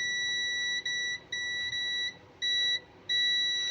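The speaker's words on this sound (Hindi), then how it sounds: "आप देख पा रहे हैं अगर तार सटी रहेगी तो बीप की आवाज़ आएगी।" Continuity-test beeps from a UNI-T UT33D+ multimeter as wire leads touch: a steady high electronic tone sounding in five repeated bursts with short gaps, clear over faint background noise.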